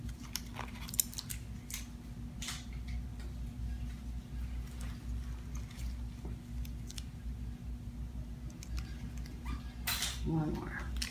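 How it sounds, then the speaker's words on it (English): Surgical scissors trim the skin edges during excision of a marble-sized epidermoid cyst on the shoulder, giving faint, scattered soft snips over a steady low room hum, with a clearer cluster of clicks near the end. "I'm just trimming the edges so that it lays flatter here"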